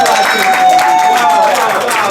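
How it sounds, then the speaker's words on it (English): An audience at a social seminar on banking claps for itself, a dense, loud wash of applause and cheering that holds steady for two seconds with tonal music running underneath. "Clap for yourself again"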